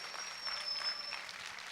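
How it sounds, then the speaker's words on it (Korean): A church congregation at a high school service claps together, a soft, distant patter of applause lasting briefly. "박수."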